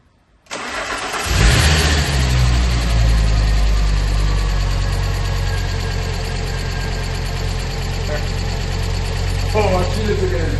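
A Fiat Coupe 20v Turbo Plus, freshly repaired after breaking down, cranks briefly and fires on its first start, then settles into a loud, steady close-up idle with a faint voice over it.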